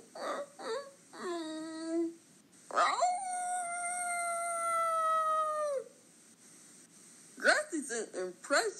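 A voice imitates a dog, giving short whimpers and yips, a long sustained howl, then more whimpering yelps, close and clear against a quiet background.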